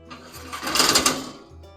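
A big hand crank on a Blackstone Bronco Santa Maria style live-fire grill lowers the grate. A brief rapid ratcheting clatter swells and fades over about a second, close by, with no talking.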